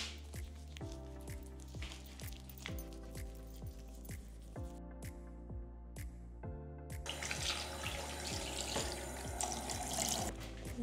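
Water runs from a bathroom tap while a face is rinsed after cleansing, a steady splashing hiss that swells in the last few seconds under rhythmic background music.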